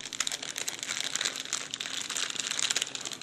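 A small plastic bag holding frozen food is handled up close, giving a continuous dense crinkling with no pauses.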